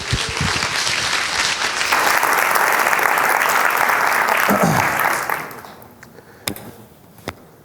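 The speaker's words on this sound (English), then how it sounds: "So let's give him a warm round of applause." An audience at a Ruby programming conference talk breaks into loud, dense applause that holds steady for about five seconds, then thins out and fades to a few scattered claps.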